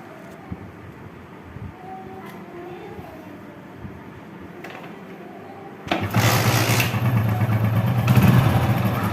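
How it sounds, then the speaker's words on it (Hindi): After a quiet stretch of faint clicks and voices, a motorcycle engine suddenly fires into a steady, close idle once the earth wire is connected, and it keeps running to the end. "देखो बाइक स्टार्ट हो चुकी है।"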